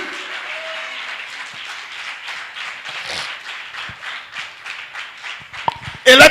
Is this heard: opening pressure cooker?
no